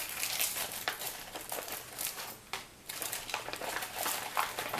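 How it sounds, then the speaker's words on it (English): Crinkling, tearing plastic of an MRE spaghetti-with-beef retort pouch being cut open with a Swiss Army knife, close and fairly continuous with bursts of rustle and a brief pause midway, no talking. "use my Swiss Army knife to cut the thing open"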